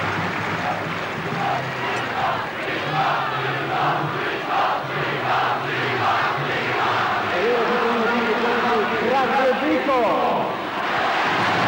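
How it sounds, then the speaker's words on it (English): A packed football stadium crowd applauds and roars for a departing star player during the 1989 Brazil versus Rest of the World match, a dense, continuous wall of noise with a commentator talking over it. "replaced by Douglas, just listen to the applause ringing around the stadium"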